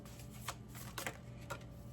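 Tarot cards are shuffled close to the microphone in three quick riffling bursts, evenly spaced, over a low steady room hum.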